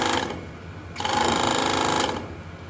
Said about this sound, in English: our little air compressor hums right to life